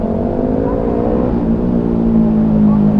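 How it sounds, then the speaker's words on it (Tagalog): A loud motorcycle engine rumbles steadily close by with a sustained low hum, on a moto-camping ride near Bunga Falls and Yambo Lake. "Napakaingay ng motor, di ba?"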